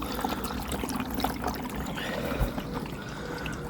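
Liquid trickles steadily as a pump pushes it through a filter and back into a bowl, a continuous close splashing and gurgling wash with no talk over it.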